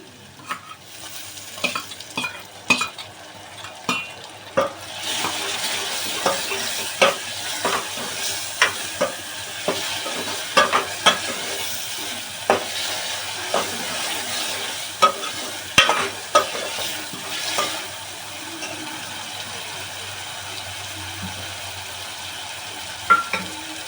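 Tomatoes stir-fried in hot oil for a gujarati jinga gathiya curry, giving a soft steady sizzle under a run of regular spoon scrapes and clacks against the pan, with no talk.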